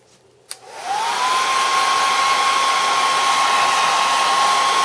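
A hair dryer blowing to dry Primo Primer kiln wash brushed onto kiln shelves switches on after a click, whining up to a steady, loud, close airflow roar that continues without a break.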